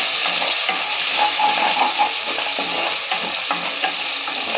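Onions sauté with green chilies and curry leaves in a pan for chicken leg gravy: a loud, continuous close-up sizzle broken by repeated stirring scrapes.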